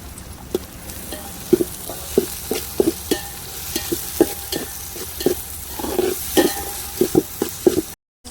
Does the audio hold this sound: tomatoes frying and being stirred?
yes